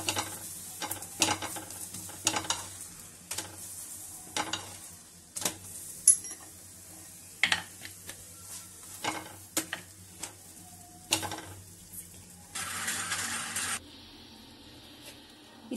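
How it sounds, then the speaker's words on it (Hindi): Lauki paratha roasts with oil on a griddle, soft sizzling broken by repeated scraping and pressing strokes of a spatula, close and irregular, with a brief burst of louder hissing near the end. "ये देखिए, जरा जरा सा तेल लगा के सेकेंगे।"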